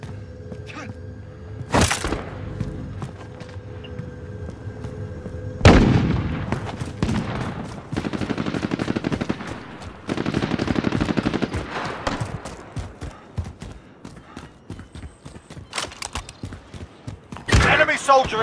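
Gunfire in the video game Call of Duty Warzone, with bursts of automatic rifle fire, single cracking shots and distant explosions mixed with in-game radio chatter and shouted voices across the clip.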